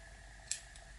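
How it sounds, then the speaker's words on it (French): One quick, faint snip of scissors cutting crochet yarn against a steady background hiss, alone with no talking. "On ramène et on coupe le fil."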